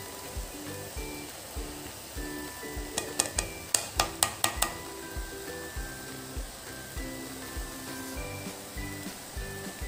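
Carrot halwa cooking in ghee in a pan, with a steady low sizzle and repeated stirring scrapes that recur in a regular rhythm, plus a short burst of sharper clinks near the middle.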